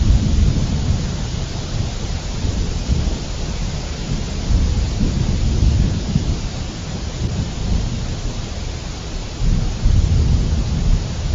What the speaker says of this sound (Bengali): দেখো গিন্নি, বাইরে প্রচুর বৃষ্টি হচ্ছে।